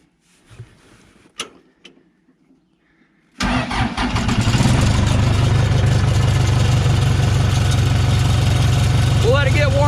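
Case 450C bulldozer engine cranking over and catching after a short quiet stretch with faint handling noises, then settling into a loud, steady diesel idle that runs to the end, with a voice briefly over it.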